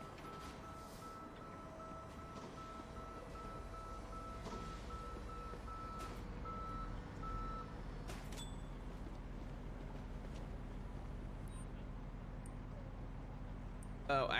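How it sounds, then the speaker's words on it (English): Double beep from a vehicle in the Police Simulator patrol-officer video game, a steady high tone repeating over a continuous low engine and traffic rumble, with other faint electronic tones layered in. "Oh, that's why I'm hearing a double beep."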